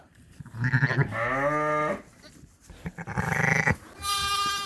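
Sheep bleating in a barn at lambing time, ewes and a newborn lamb calling in long, wavering cries one after another, loud and close with short pauses between.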